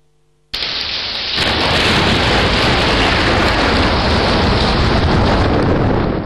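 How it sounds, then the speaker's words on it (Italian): Heavy thunderstorm downpour during a lightning storm in the Veneto region of Italy: a sudden, loud, continuous roar of pouring rain with rumbling thunder, and no voices. "nella Marca una vera e propria tempesta di fulmini con danni a 2 case"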